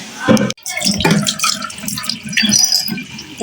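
Water runs and splashes from a tap while bathroom basins are scrubbed clean, with uneven gushes and brief breaks. A person talks over it in the background.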